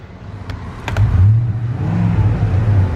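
Idling engine of a 2010 Ford Econoline wheelchair van, a close, loud, steady low rumble that swells slightly, with a few brief clicks near the start.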